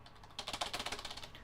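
Rapid typing on a computer keyboard, a quick run of about a dozen close, crisp key clicks in a regular rhythm, with no voices.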